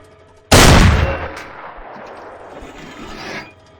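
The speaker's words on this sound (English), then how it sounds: "It's got a nice reload sound, nice shot firing sound." A tank main gun in the Arma 3 IFA3 mod fires with a sudden, loud near blast, then a long rumbling decay with scraping, rasping mechanical noise during the reload, all fading out after a few seconds.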